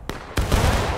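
A musket volley crashes out in the War of Rights battle game: a brief first report, then a heavier, sustained burst of overlapping shots rolling together, loud and close, with no talk.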